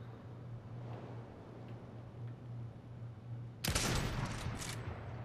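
Gunfire in the Fortnite video game: after a stretch of quiet hum, a sudden loud burst of shots erupts and rattles on for about a second before fading into a faint background.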